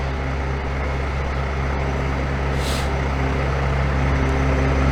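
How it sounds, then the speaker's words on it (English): An International truck idles on a city street, a loud steady low engine rumble close by with a brief hiss partway through, no talk. "That truck's going to be noisy as we walk by it."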